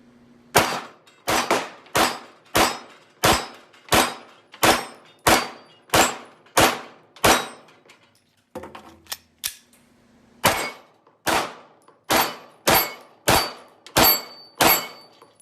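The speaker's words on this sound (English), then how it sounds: "I have a video that I'm probably going to show you right now of me nailing some steel targets." Pistol shots ring off steel targets in quick regular strings, each crack followed by a sharp metallic ping, about a dozen before a short pause and a handful more after; no talking.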